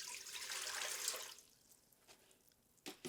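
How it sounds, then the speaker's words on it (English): Water is poured into a container for a sugar science experiment, a bright rushing splash for about a second that stops, followed by a few faint drips and small clatters. "Pour it into our container."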